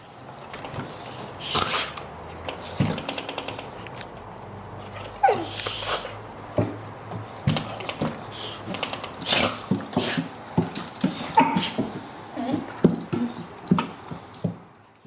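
A Shar Pei cross puppy and a Border Collie cross puppy play-fight up close, with bursts of small growls, whimpers, snorts and wet mouthing sounds coming in irregular clusters that grow busier toward the end.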